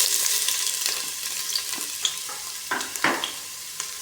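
Ginger frying in a pan for octopus adobo: a steady sizzle with scattered crackles and pops, close and clear, and no voices.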